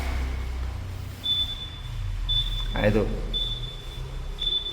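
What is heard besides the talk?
Yamaha NMAX scooter reminder warning beep when left on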